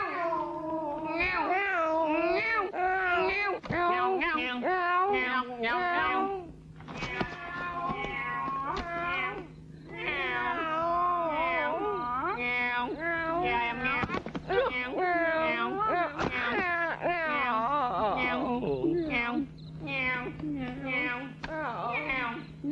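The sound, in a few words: people imitating cat meowing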